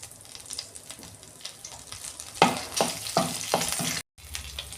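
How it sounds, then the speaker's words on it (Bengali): Dried red chilli, bay leaf and whole cumin tempering in a little oil in a kadai, a soft steady sizzle with several louder stirring scrapes in the second half and a brief drop near the end. "ফোড়নটা ভাজা হয়ে গেছে"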